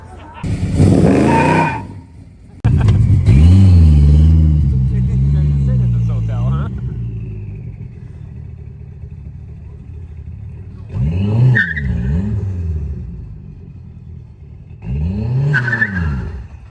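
A hot rod's engine revs hard and roars past up close, then fades before two more shorter bursts of engine noise rise and fall, with people talking underneath.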